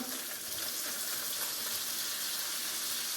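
Bacon and diced ham frying in a pan, a steady bright sizzle and crackle running continuously at moderate loudness, close by, with no talk over it.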